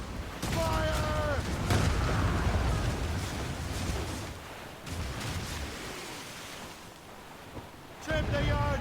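Heavy cannon blasts from sailing warships in Assassin's Creed Rogue thud out a few times amid a steady roar of sea and wind, with shouted voices at the start and end.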